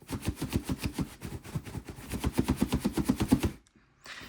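Rapid rattling clatter as something loose shakes inside a box, a fast steady series of knocks that stops abruptly near the end.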